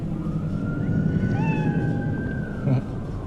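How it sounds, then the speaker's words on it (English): A small cat meows in Cyberpunk 2077, a short high rising-and-falling call heard over a steady hum of game background ambience, with a second brief sound near the end. "There's a little cat there."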